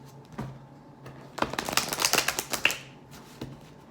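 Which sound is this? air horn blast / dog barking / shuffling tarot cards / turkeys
shuffling tarot cards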